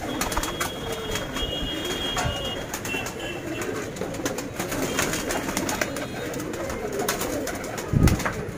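Saharanpuri pigeons coo and rustle steadily, a dense low murmur of many birds with clicks and wing sounds, plus a louder flutter near the end.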